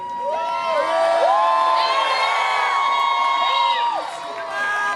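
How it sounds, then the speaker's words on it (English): Crowd at a high school gathering cheering and whooping with high shouted voices that swell and fall, mixed with applause, loud and close throughout. "I didn't expect an applause for that."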